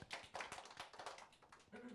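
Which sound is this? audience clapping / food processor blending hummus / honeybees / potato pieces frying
audience clapping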